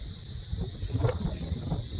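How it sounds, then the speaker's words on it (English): Outdoor wind buffets the microphone with a low, rumbling gust that swells and fades over a couple of seconds, close and moderately loud. "it's windy out here"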